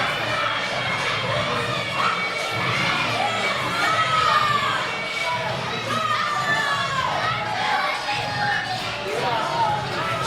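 Crowd at an independent wrestling show cheering and shouting after the main event, a dense, lively roar of many voices including high-pitched shouts.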